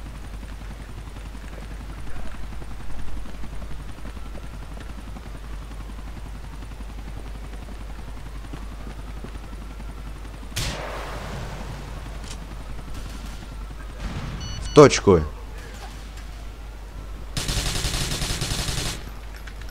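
Gunfire at an airport in Grand Theft Auto IV over a constant low helicopter drone, with scattered shots, a sharp close burst near the end and a noisy roar after; a voice briefly speaks.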